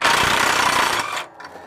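Loud whirring burst of a power impact gun spinning off bolts on a planter, a steady buzzing rattle for about a second before cutting off to a faint tail.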